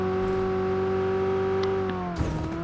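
A vehicle engine drones steadily in the mobile battle royale game BGMI, with layered tonal hum throughout and a brief rough burst near the end, heard alone without talk.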